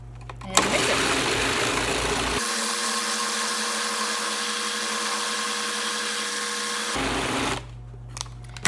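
A food processor whirs loudly and steadily for several seconds while mixing mint chocolate brownie batter, starting up and cutting off abruptly, with a faint clatter before and after.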